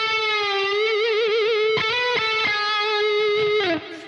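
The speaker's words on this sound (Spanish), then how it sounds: "Y ahí la palanca va haciendo un medio tono hacia abajo." Distorted electric guitar holds a sustained note with wavering vibrato, then the whammy bar dips it down a half step near the end, followed by a few picked notes; loud, close, no voices.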